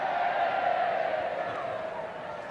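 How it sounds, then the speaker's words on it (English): Away supporters at a London City Lionesses versus Chelsea women's football match raise a sustained crowd cheer, a broad distant roar that swells and then slowly fades. "Good cheer from the away ends."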